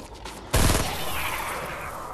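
A sudden loud burst of gunfire aimed at a zombie in a video game hits after a quiet moment, then trails off into a long, fading echo.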